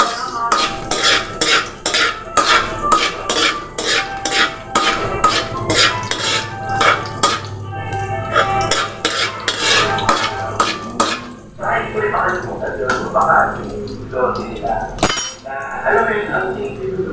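Garlic and white onion sautéing in a pan as binagoongang talong is cooked, with a steady run of metal utensil scrapes and clinks against the pan for most of the stretch, then quieter sizzling with occasional knocks and one sharp clink near the end.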